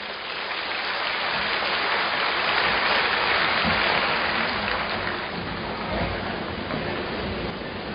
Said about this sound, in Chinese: 让我们掌声欢迎